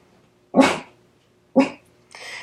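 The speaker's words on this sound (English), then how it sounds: "Sorry, my dog is fussing." An indoor dog fusses and barks, giving two distinct loud barks about a second apart, followed by a third, rougher vocal burst at the end.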